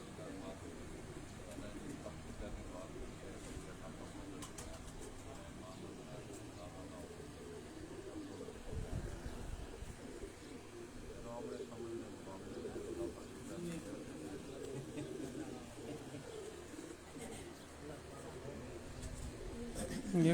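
Pigeons at a rooftop loft in Karachi coo in a steady low murmur throughout, moderately near, with people talking over them the whole time.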